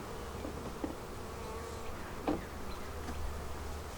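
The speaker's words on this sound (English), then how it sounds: "I'm going to be shaking a lot of bees into this nuke." A dense, steady buzz of honeybees as they are shaken from a frame into a nuc box in a bee yard. The drone is continuous, with a few sharper thumps and rustles.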